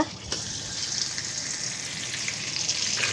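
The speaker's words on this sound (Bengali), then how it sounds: "তেলের মধ্যে দিয়ে দিচ্ছে এই যে গরম মশলাগুলো, এলাচি, দারচিনি, তেজপাতা এবং লং। তারপর দিয়ে দিচ্ছে এই যে বাটা মশলা" Ground paste of green chilli, garlic, ginger and onion frying in hot oil with whole cardamom, cinnamon, bay leaf and cloves, giving a dense, continuous close sizzle with no voices.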